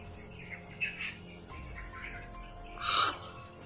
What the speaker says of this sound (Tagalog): napakaraming mga uwak po talaga